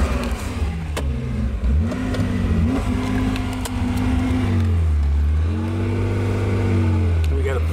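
The engine of a 1983 Porsche with a 5-speed gearbox turns over and catches, then idles and revs up in a few rising swells. It is heard close by, with a person talking over it.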